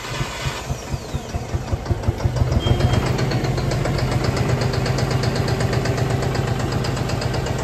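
A John Deere 5045E tractor's diesel engine cranks with a rhythmic starter chug, catches and settles into a loud, steady, close idle with a knocking pulse after a starter replacement; no one speaks.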